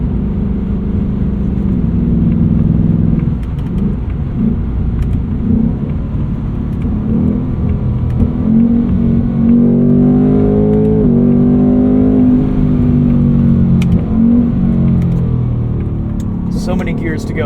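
A 2024 Ford Mustang GT with a 10-speed automatic accelerates from inside the cabin, its engine drone rising and dropping through successive gear changes, loud and steady, while a person talks over it.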